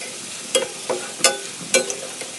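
Kara boondi fries in a pan of hot oil, with a close, steady bubbling sizzle and four distinct clinks of a ladle or strainer spaced evenly through it.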